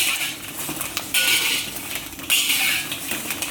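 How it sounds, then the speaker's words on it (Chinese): Green chili peppers are dry-fried in a wok without oil, pressed against the pan, giving a steady sizzling scrape with metallic clinks of a utensil on the wok, close and continuous with two louder bursts. "先把辣子炒干水分哈"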